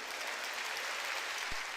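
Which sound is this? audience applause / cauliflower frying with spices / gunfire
audience applause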